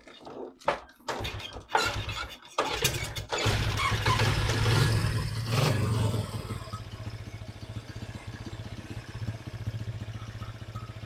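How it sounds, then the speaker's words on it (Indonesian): A Honda Super Cup motorcycle engine is started and left running for a test, with a few sharp knocks and clatter first, then a steady, fairly loud idle that settles slightly quieter toward the end. "Tes mesinnya."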